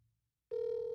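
A telephone ring from a call placed on a cell phone to a studio line starts abruptly after a moment of quiet, a steady, loud electronic ringback tone.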